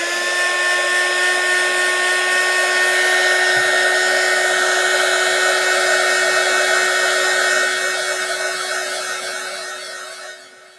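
A craft heat tool blows hot air to heat craft material, producing a loud, steady, high-pitched whirring hum up close that holds for several seconds and then fades as it winds down.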